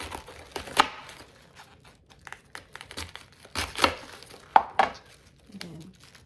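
A knife cutting the core out of a halved cabbage on a cutting board, several sharp crunching chops and crinkly leaf snaps in an irregular rhythm, close and fairly quiet.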